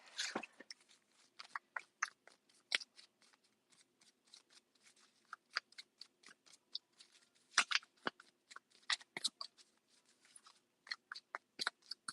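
Tarot cards shuffled by hand, with quiet irregular riffles, taps and crisp snaps in uneven bursts over about twelve seconds, close and soft, with no talking.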